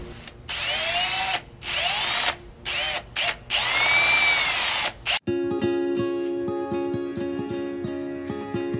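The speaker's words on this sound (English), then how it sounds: "So I'll drill the hole, and hopefully the gasket that's on them will do its job." Power drill boring a hole in a plastic IBC tote: repeated loud whining bursts of the drill, rising and stopping, close up, followed by clicking and rattling mechanical sounds.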